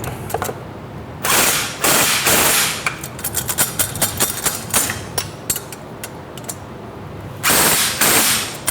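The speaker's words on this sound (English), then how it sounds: "So I'm going to back the nut and I'm going to tighten it up." A 12 mm wrench and a backing wrench work a nut on a mud motor turbo, with close metallic ratcheting clicks in quick rapid runs between louder clanking bursts.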